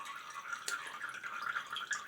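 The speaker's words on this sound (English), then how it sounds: "most of the water runs out of the brush." Water drips and trickles out of a shaving brush held up during a first straight razor shave, a soft, close patter of small droplets with one sharper splash.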